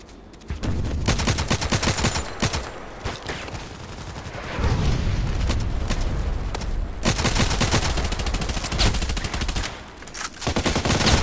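Automatic rifle fire from the online shooter game Contract Wars, a modded RFB: loud, nearly continuous rapid bursts of gunshots, with brief pauses between volleys, close and dense throughout.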